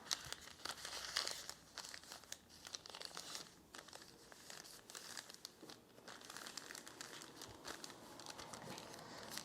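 Marbled paper being folded in half for origami gives steady close crinkling and crumpling, with sharp creasing rustles throughout and no talk.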